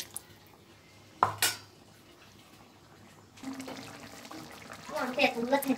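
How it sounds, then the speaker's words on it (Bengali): Water poured into a pot of shing fish curry with tomato, with a sharp metal clank of the pot early on, then a rising, splashy pour that grows louder toward the end, close by. "আর একটু পানি দিয়ে দেব।"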